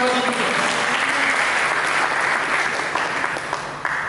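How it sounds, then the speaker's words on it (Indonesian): A church congregation claps together in steady, dense applause that tapers slightly toward the end, loud and close, with a faint voice underneath. "Mari kita berikan tepuk tangan bagi Tuhan."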